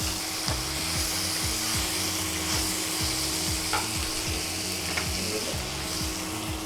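Pork and bell pepper fry in a pan with a steady, close sizzle, while a utensil stirs and scrapes in repeated taps and strokes throughout.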